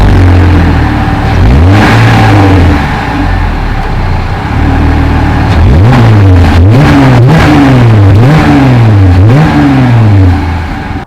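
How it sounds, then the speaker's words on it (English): A 2020 Jeep Gladiator pickup truck engine idles with a heavy rumble, then revs repeatedly in rising and falling surges, loud and close, with no one speaking. "While we're taking a look at the engine, why don't we take a listen to it too?"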